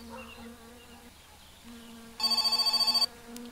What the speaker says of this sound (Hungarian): Megint csörög a telefon.